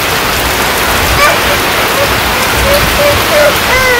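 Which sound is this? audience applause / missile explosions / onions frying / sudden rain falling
sudden rain falling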